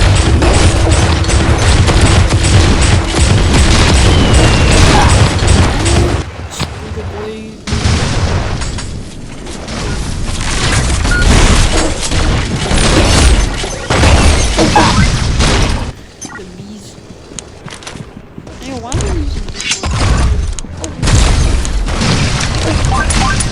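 Heavy, booming blasts from the Purifying Shotgun in the shooter game PG3D fire in rapid bursts, loud and up close, with a voice talking over parts of the stretch.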